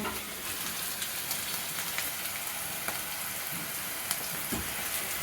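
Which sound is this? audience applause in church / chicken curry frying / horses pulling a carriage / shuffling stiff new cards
chicken curry frying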